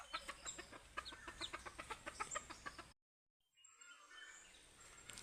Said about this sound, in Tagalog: Ang daming sisiw ng labuyo.